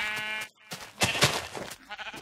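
Sheep bleating in the Minecraft video game on Xbox 360, several wavering bleats in a row, close and clear with short pauses between them.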